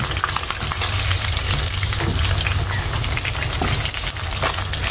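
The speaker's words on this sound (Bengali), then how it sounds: "পরের পাঁচটা আমি ভেজে দিচ্ছি।" Pieces of catla fish fry in hot oil, giving a continuous loud crackling sizzle with bubbling spits and a few scraping knocks from handling, close and without speech.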